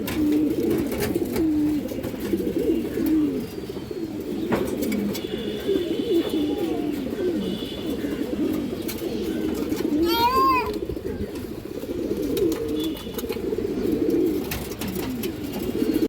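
A male silver bagha pigeon coos in a low, continuous, throaty murmur close by, with a brief higher chirp partway through.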